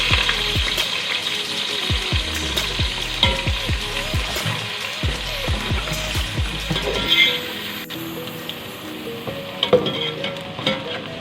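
Onions frying in hot oil with cumin seeds for a Pakistani-style layered biryani, a steady close sizzle with repeated scraping and stirring strokes of a spoon against the pot throughout.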